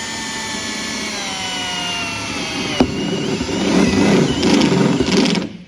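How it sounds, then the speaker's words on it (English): A power step drill whines steadily and grows louder as it bites into sheet metal, ending in a short grinding burst. "we'll get the step drill and drill a couple of holes in this"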